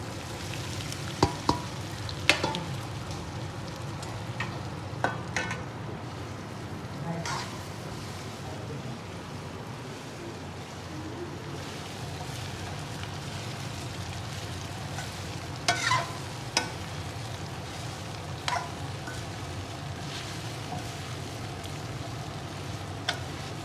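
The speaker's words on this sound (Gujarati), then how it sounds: "આ વઘારી નાખીશું" Muthiya dhokla being tempered in hot oil with sesame, mustard seeds, cumin, chillies and asafoetida: a low, steady sizzle runs throughout, broken by sharp scraping stirs and clinks of a spoon against the pan, with no talking.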